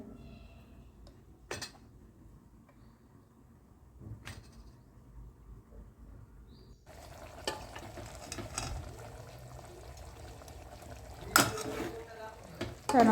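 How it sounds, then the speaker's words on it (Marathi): Puris deep-frying in hot oil: a quiet kitchen with a few scattered knocks gives way about halfway to a steady, louder bubbling sizzle punctuated by occasional clatters. "तर आता आपण पुरी देखील तळून घेऊया."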